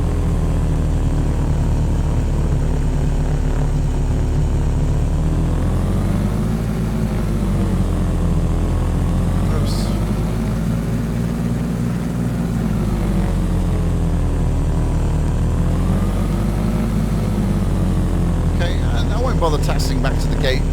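Propeller aircraft taxiing off the runway in the Prepar3d 2.5 flight simulator over Manhattan, New York, with a steady loud engine drone that rises and falls slightly throughout, running continuously without pause.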